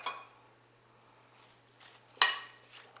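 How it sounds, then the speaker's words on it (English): Apples being stirred with lemon juice in a bowl: a few soft scrapes and a bright clink of a utensil against the bowl, close and quiet, with no talking. "So I'll stir all of this together to mix."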